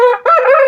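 A champion rooster lets out a single loud, close crow, a bright harmonic call with a short break before the drawn-out final note.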